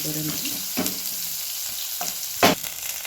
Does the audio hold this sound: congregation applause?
no